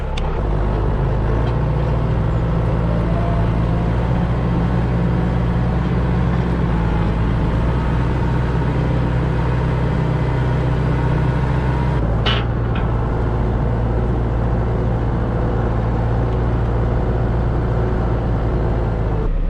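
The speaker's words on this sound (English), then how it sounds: "Now, let's see if this old 6110 struggles or not." An old 6110 tractor pulls a load of hay through snow at around 7 to 8 mph. Its engine gives a loud, steady low drone close by that holds for the whole stretch, with a brief shift in pitch partway through.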